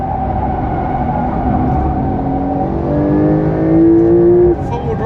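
A Porsche four-wheel-drive sports car, about 1,600 kilos, accelerates out of a turn on a race track. The engine note climbs in a rising whir, loud and continuous, while someone speaks over it.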